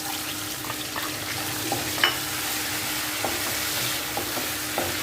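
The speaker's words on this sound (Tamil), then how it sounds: "நல்லா கடலைப்பருப்புலாம் வறுக்கணும்" Chana dal (split chickpea lentils) frying in hot oil with a steady crackling sizzle and occasional stirring clinks, no talking.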